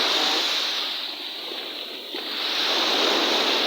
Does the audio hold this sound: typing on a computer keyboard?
no